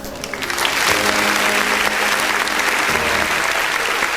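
Loud, sustained applause from a graduation audience, steady clapping filling the whole stretch with a few louder bursts.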